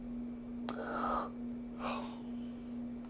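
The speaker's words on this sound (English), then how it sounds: "I had to yawn for like 5 minutes" A person yawns close to the microphone, a drawn-out breathy inhale followed by a second airy exhale, quiet and alone over a faint steady hum.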